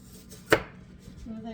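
A knife makes a single sharp chop through an apple onto a cutting board while apples are being diced. The thud is close and brief and is set against quiet room sound.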